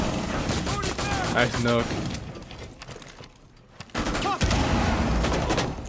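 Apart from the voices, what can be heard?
gunfire from the video game Rainbow Six Siege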